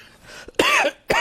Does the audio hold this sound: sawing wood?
no